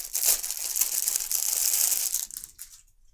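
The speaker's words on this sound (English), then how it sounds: "excuse the rustling for a minute" Cloth bags from the Crescent Moon board game are handled close by, making a bright, dense crinkly rustle for about two seconds before it tapers off into a few softer scuffs.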